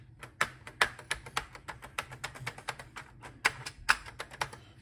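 Rapid, uneven typing on the mechanical keyboard of an Oril BK-08 home computer, with dense clicky keystrokes and a few louder taps heard close up and alone, without speech.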